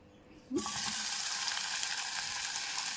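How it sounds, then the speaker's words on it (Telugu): A sudden loud sizzle as tomatoes hit hot oil in a pan, then a steady close crackling fry that continues without a break. "ఈ లోపల మళ్ళీ టమాటా వేయించేసుకుందామండి"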